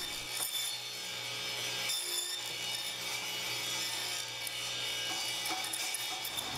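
A table saw cutting a rabbet in a board over multiple passes, a continuous loud whirring blade with a bright cutting hiss that dips briefly between passes.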